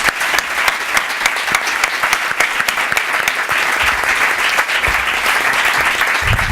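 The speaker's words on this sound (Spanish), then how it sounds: "Pido un aplauso muy fuerte para mis compañeros." An audience at a conference panel on project management applauds loudly and steadily, dense clapping from many hands that holds for several seconds without a break.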